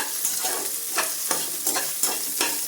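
Cashews and soybeans roasting in a pan, a steady close sizzle punctuated by rhythmic scraping stirs every half second or so.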